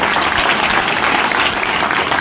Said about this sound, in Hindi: बजाओ ताली जोर से।